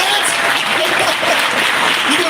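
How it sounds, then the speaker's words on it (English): Loud, close applause fills a town hall meeting, dense steady clapping with crowd voices and cheering mixed in throughout. "You can applaud for that."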